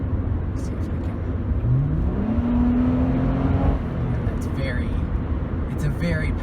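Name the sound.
2003 Honda Accord 3.0L V6 engine revving under full throttle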